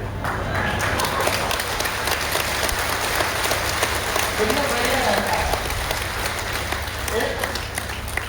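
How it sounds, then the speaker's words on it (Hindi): An audience at a talk claps along in a fast, dense patter while someone speaks over the clapping, with a low steady hum beneath. "जब आप ताली बजाते हो"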